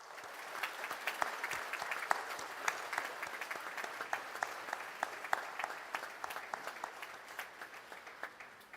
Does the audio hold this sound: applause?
yes